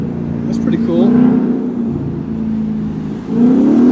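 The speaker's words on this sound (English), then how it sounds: "Look at this Mustang here. Race car Mustang." A loud Ford Mustang race car engine holds a steady growling tone, then revs up sharply near the end, close by on a Las Vegas street with voices nearby.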